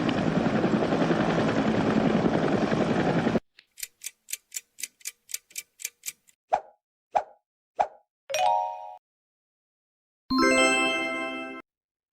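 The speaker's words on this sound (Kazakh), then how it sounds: "Әрине, бұл тікұшақ." A loud helicopter rotor beats steadily for about three seconds, then stops abruptly and gives way to a run of unrelated ticks, plops and short chimes.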